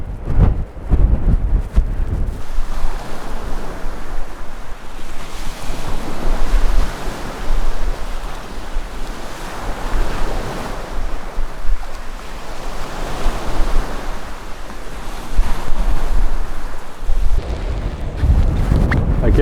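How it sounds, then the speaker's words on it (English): Strong wind blasts across an exposed coast in Galway's Connemara, roaring steadily into the microphone with rushing surf and waves beneath, rising and falling in loud gusts with no one speaking. "It's absolutely crazy windy."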